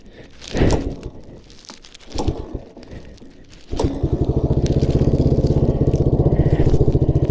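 A 1980 Yamaha XT250 motorcycle with a freshly adjusted carburetor, heard first as clattering handling noises, then settling into a close, loud, rapid single-cylinder idle that thumps evenly to the end.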